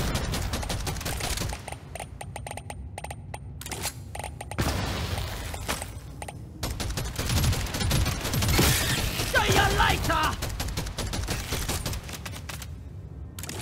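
Deep Rock Galactic weapons fire in long rapid bursts amid dense bug-fighting chaos, a near-constant loud rattle with brief gaps, while players talk over it.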